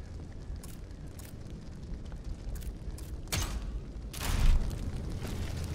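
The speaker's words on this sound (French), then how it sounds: "Une masse qui mitraille." A boss in the video game Steelrising fires a machine-gun mace, several sharp bursts and heavy booming blasts cutting through a rumbling game backdrop, the loudest blast near the end.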